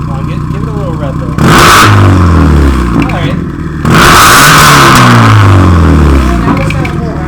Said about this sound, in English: Come on, give it a little rev there.